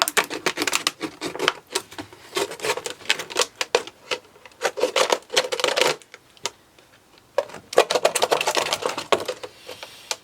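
Scissors or a blade cutting around a plastic bottle, a rapid crinkly crunching and snipping in close, busy bursts with a short pause midway, no talk.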